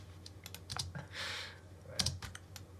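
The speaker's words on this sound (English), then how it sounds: "using the arrow keys on the keyboard for this to make it easier" Arrow keys tapped on a computer keyboard during video editing, a close scatter of separate clicks and short bursts with brief pauses, no voices.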